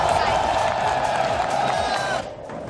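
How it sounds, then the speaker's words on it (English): A hyped crowd cheers and roars at an esports event. The noise is loud and sustained and thins out near the end, with talk faintly mixed in. "As you can see, the crowd is absolutely hyped for a big day."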